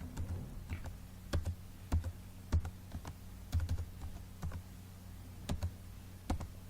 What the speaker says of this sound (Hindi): ये आईडी कार्ड नंबर मैंने लिख दिया